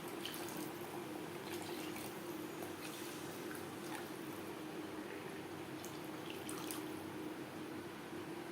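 Water poured into simmering Bengali mustard gravy for shorshe ilish, using water from washing the spices, runs as a steady close splashing trickle with a bubbling, liquid texture throughout, with no talk over it.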